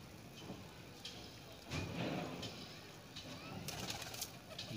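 Soft, low coos of a short-tailed pigeon murmur close by against a faint noisy background, with a brief rustle partway through.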